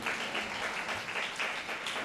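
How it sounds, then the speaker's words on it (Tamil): A church congregation claps during a Tamil sermon, a steady wash of many hands at moderate level with no speech over it. "கைதட்டுங்களேன்."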